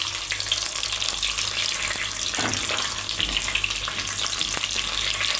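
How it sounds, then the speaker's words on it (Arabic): Meat sizzles and fries steadily in a pot while being browned for Palestinian maqluba, a continuous close crackling hiss with a faint clink or scrape of stirring partway through. "بعد ما حمرت اللحمه اهي"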